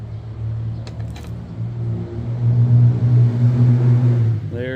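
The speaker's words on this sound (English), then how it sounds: "Got people bringing their hot rods out. They think it's a drag strip out in front of my house" Hot rod cars rev outside a house, a deep, loud engine rumble that swells and holds, with a faint clicking noise early on.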